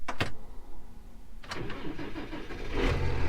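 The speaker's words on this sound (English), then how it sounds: "I'm gonna start this unit up, check the oil first." A Case IH Magnum tractor engine cranks with a couple of quick starter bursts, then catches and settles into a steady, close, mid-pitched idle rumble with no talking.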